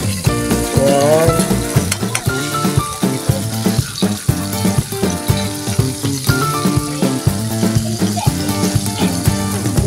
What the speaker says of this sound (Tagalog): magluluto tayo ng itlog na may kamatis.